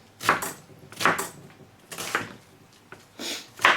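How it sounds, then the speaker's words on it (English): A knife chops through an onion on a cutting board in four sharp, evenly spaced thuds, close and clear with no talk. "4 times the other way, and that is a chopped up onion"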